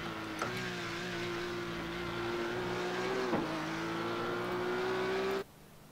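A Mustang race car leaves the pit lane in iRacing, its engine a steady, droning whine that climbs slightly in pitch, with two short clicks along the way before it cuts off sharply near the end.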